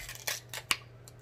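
Shears or kitchen scissors crunch through a cooked king crab knuckle at a seafood boil, giving a few sharp close snips and cracks in quick succession over a faint steady hum, with no talking.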